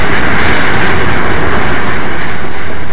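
A cab forward steam train crossing Donner Pass near Donner Lake in 1957 produces a loud, close, continuous rumbling roar with a steady mechanical rattle running underneath.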